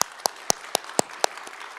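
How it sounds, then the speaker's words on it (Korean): A church congregation at a Sunday worship service claps in unison, with sharp, evenly spaced claps at a brisk steady rhythm, about four per second, standing out clearly against a quiet room. "크게 박수 한번 해주십시오."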